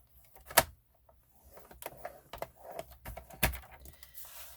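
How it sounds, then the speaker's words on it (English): Paper card is scored on a scoring board in a few sharp taps and scrapes, with a loud click near the start and another later, separated by quieter rustling and handling. "I am going to score this card at 2 inches"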